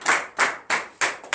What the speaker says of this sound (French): donnons une acclamation à notre Père spirituel